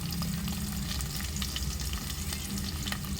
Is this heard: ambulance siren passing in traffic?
no